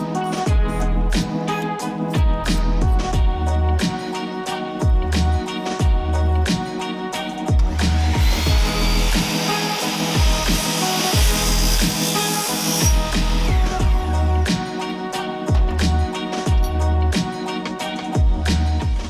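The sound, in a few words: power tool cutting excess aluminum T-track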